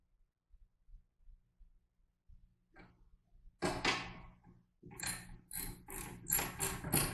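A ratchet tightens a bolt on a tilt brake spring, giving rapid close clicking strokes in repeated bursts that follow soft handling noises.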